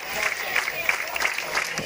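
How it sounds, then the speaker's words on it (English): A homecoming crowd at a high school football game claps steadily from the stands, a dense wash of applause with voices mixed in. "They're up, they're clapping, and got a great high school football atmosphere here."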